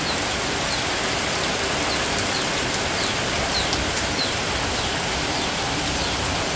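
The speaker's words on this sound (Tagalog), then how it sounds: "Umulan na po mga chula." Steady rain falling at a family birthday gathering in the Philippines, an even wash of drops pattering on surfaces, with faint bird calls now and then.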